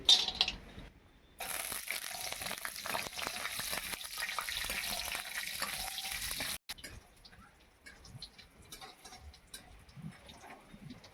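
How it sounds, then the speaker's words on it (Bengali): Steady hissing sizzle of lentil dumplings frying in mustard oil, loud and continuous for several seconds, then dropping to a quieter crackle with faint clinks. "সামান্য সর্ষে তেল দিচ্ছি কলাই বড়িগুলো ভেজে নেবো"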